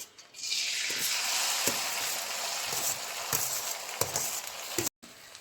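Boiled pearl millet roasts in hot ghee in a wok for bajri lapsi, a bright steady sizzle that jumps in at the start, broken by knocking stirs and scrapes and a brief silent gap near the end.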